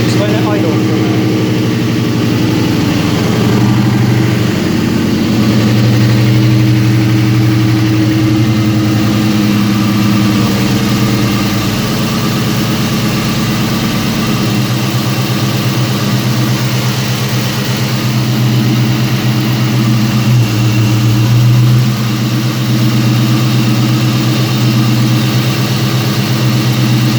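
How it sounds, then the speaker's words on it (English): 1999 Ford Mustang GT with a newly replaced intake manifold idling nearby, a loud, steady low rumble with slight fluctuations throughout, and a voice talking over it at times. "Just let it idle for a minute."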